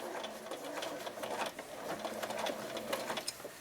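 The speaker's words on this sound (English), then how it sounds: "I'm going to just stitch using this as the guide, stitch along, and you're edge stitching your scarf." A sewing machine edge stitches a fleece scarf, giving a steady, close mechanical whir with a fast stitching rhythm that runs unbroken throughout, with no talking.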